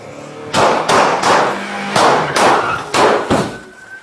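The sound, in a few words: gunshots during armed robbery arrest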